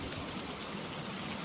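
Heavy rain falling steadily at night, a dense even hiss of water with no breaks, continuous and fairly loud throughout, with no voices.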